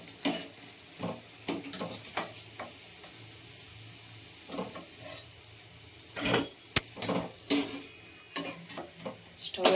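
Urad dal vadas (garelu) frying in hot oil until crisp and golden give a soft, steady sizzle, broken by scattered scrapes and clatters from the pan and utensils.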